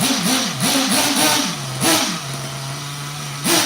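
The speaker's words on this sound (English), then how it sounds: "can't beat the sound of the big block" A big-block engine on an RC model revs close by, giving several quick rhythmic throttle blips that settle into a steady idle drone, then one more blip at the end.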